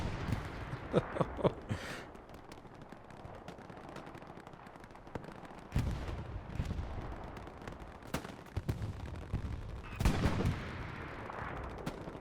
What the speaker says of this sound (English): Rockets firing all over the place here.